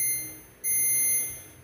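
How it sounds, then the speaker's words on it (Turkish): Arçelik refrigerator door alarm sounding after electronic control board repair, two sustained high electronic beep tones, the second louder and starting abruptly before fading, close with no talking. "Kapak alarmımız da ötmeye başladı."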